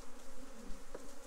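Honey bees buzzing inside an opened Apimaye hive during an overwintered colony inspection, a dense close hum from many bees, steady throughout with a brief louder pass near the end.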